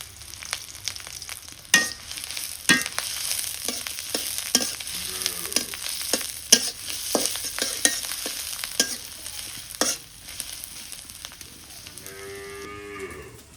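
Chopped onion and green chili sizzle steadily in hot oil in a pan while being cooking for a bottle gourd leaf and egg curry, with sharp stirring clicks scattered throughout and a cow lowing briefly near the end.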